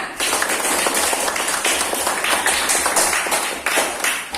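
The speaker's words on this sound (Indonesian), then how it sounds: "kasih aplaus untuk kalian semuanya" A class of students applauds together in a classroom, steady close clapping filling the moment with no talking over it.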